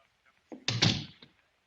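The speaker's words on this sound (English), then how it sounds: "Please close the door and come in." A door closes in an old-time radio drama, Box 13, as a single muffled thunk with a brief rattle, alone in an otherwise quiet scene.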